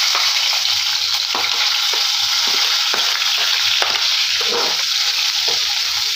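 Onion fries in hot oil for a dry chicken dish, giving a loud, close, continuous sizzle with sharp crackles and occasional stirring scrapes.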